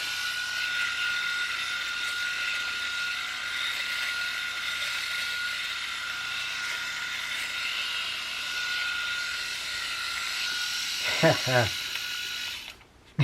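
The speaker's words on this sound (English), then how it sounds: "Shave with two different razors." Philips Norelco 5650 and 6100 electric shavers hum steadily close up while shaving, a constant whirring buzz, with a short ratcheting rattle near the end as the shaver is handled.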